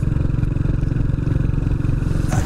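A motorcycle ridden on the road to an ecological horseback ride in Cocalzinho, its engine a loud, steady, close drone with a rhythmic low throb and no speech.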